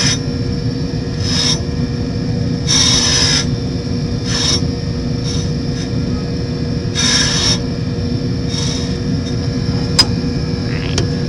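Ice skate blade being sharpened by hand: repeated rasping swipes of the stone along the steel, some short and some longer, close and steady over a constant low machine hum.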